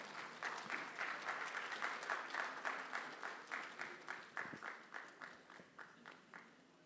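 An audience at a game-industry conference panel in India claps steadily for about seven seconds, a dense, even patter of many hands in a hall that slowly thins toward the end, with no clear cheering.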